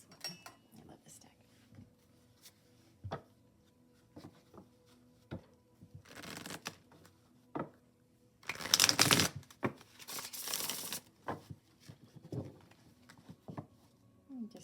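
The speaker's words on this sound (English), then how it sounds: "Just do a few shuffles" Soft riffling and shuffling of playing cards, with brief flurries of crisp card noise amid quiet handling sounds and occasional faint talk.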